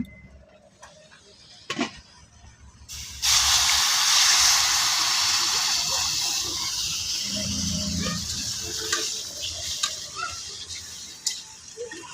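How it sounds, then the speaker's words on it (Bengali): Water is poured into a pan of lightly roasted semolina, setting off a sudden loud, steamy hiss that holds strong, then slowly settles into softer bubbling and sputtering with a few faint clicks; no one talks. "এদিকে ভাজাটা হয়ে গেছে মানে আমি জলটা দিয়ে নিব"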